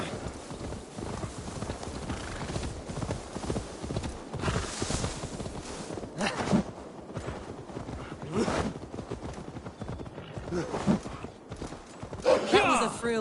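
Horse hooves clip-clop in a steady walking rhythm in Assassin's Creed Valhalla, close and continuous, with a character voice talking over them.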